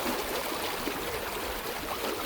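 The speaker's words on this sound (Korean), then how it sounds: "이렇게 오늘도 물소리를 들으면서 아침을 시작합니다." Sea water washing in at a small harbor on Jeju Island in the morning, a continuous dense rushing and trickling wash that stays steady and close throughout, with no voices.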